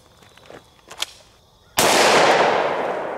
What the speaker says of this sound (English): now let's hit it with a pistol round that's moving really fast